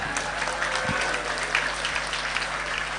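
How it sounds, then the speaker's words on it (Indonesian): Audience at a school anniversary event in Palembang applauding continuously, a dense, even patter of many hands heard from some distance in a reverberant hall. "Tepuk tangan semuanya."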